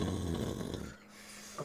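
A voice imitates loud, heavy snoring, one long rasping snore lasting over a second, then a brief quiet gap and a short snort at the end.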